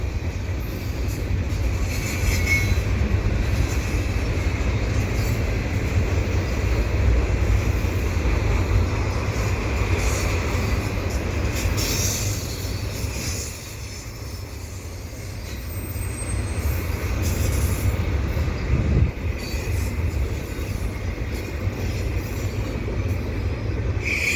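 Heavy Canadian Pacific eastbound mixed freight and stack cars rumble and clatter steadily along the tracks at Dorval, a loud continuous rolling roar with wind noise, easing briefly before building again.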